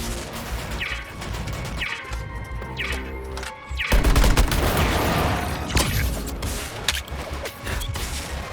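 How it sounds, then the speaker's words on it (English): Dense, continuous artillery gunfire and crashing blasts in Suicide Squad: Kill the Justice League, loud and chaotic, with bursts of rapid shots and heavy booms rolling throughout, no voices. "I can't hear over the artillery."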